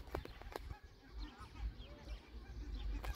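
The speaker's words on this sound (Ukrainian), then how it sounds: "Бачу озеро, там куча-куча всяких гусочок, курочок, вірніше, пташечок." Geese and other birds at a lake in an eco park in Poltava give scattered honks and calls, fairly distant and quiet over outdoor background noise.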